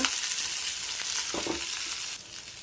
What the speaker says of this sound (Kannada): ಒಂದೇ ಒಂದು ಚಕ್ಕೆ, ಒಂದು ದಪ್ಪ ಈರುಳ್ಳಿ ಚೆನ್ನಾಗಿ ಹುರ್ಕೊಳ್ಳೋಣ